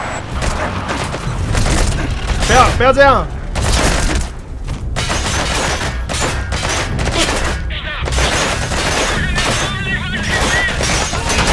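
Gunfire in Metal Gear Solid V: The Phantom Pain erupts in rapid bursts with booming impacts and crashes, including a vehicle under attack. The shots are dense and loud throughout while a player talks over them.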